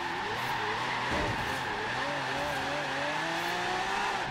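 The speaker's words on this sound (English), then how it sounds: "it's a truck and it's drifting" A Ram Runner truck drifts in Forza Horizon 3, its tires squealing steadily under a droning engine at close range, with pitch rising and sliding through the slide.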